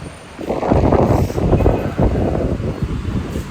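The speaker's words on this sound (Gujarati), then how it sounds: "વરસાદ આવે ના આવે લેકિન પવન જોરદાર છે બોસ." Strong wind blows along an open walking lobby near an airport, buffeting the microphone in deep rumbling gusts that swell and ease over several seconds without any talk.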